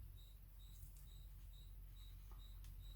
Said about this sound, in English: it's not the actual hamster squeaking, it's the hamster on its wheel.